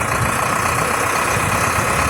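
A YTO NLX 1054 tractor engine runs at a steady idle, a loud, dense diesel drone with constant rumble and mechanical clatter and no pauses or voices.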